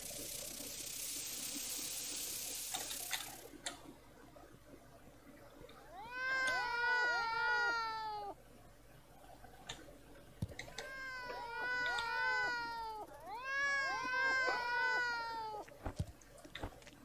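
A cat meows in the video game Green Project, giving three drawn-out, wavering cries spaced a few seconds apart, clear and moderately loud over a quiet background with a few soft clicks.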